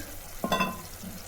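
Ash gourd being stirred in a pan with half a cup of milk and mustard paste: a brief, soft scrape-and-sizzle burst, close and alone, fading quickly.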